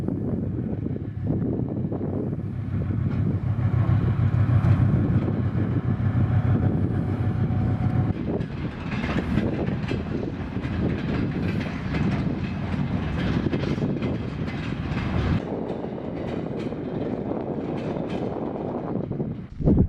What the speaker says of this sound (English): finally, a decently long freight train has arrived to Balykchy